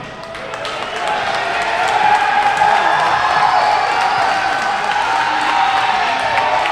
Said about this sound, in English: The big cheer you just heard is for number 3, Josh Moore